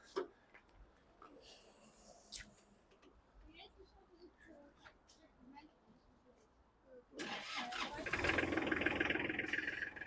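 A Kubota GL19 long-wheelbase tractor with glow plugs sits quietly while faint voices and small clicks are heard. Then, about two-thirds through, the diesel engine cranks and catches, and its loud, steady running fills the rest of the clip.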